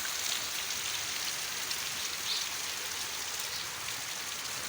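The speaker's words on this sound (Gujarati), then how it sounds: "વરસાદ ધોધમાર પડ્યા છે તમે જોઈ શકો છો" Heavy monsoon rain pours down in a rural Gir countryside, a dense, even, loud hiss of drops on surfaces that continues unbroken with no voices.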